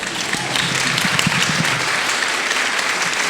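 Steady audience applause fills a book festival hall during a literary event, a dense wash of many hands clapping continuously at close range, with no voices standing out.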